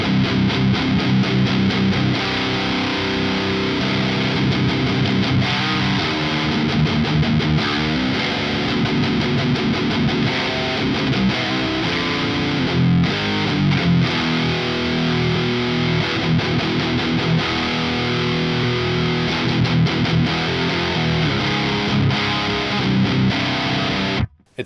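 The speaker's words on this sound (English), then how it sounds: "boost to its like noon settings with the drive all the way off," Electric guitar played through a Schu-Tone Luna Obscura boost pedal set at noon with the drive off, a loud, dense and continuous riff with slight grit, heard alone without talk until a sudden cut at the end.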